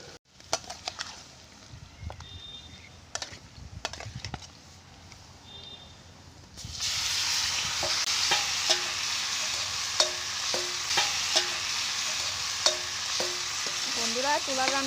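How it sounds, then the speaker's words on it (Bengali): Chicken goes into a pan of browned onions, setting off a loud, continuous sizzle with scattered scraping stir clinks, after a quieter stretch of light kitchen clatter. "পেঁয়াজটা লাল লাল হয়ে গেছে, এবার দেওয়া হবে চিকেন"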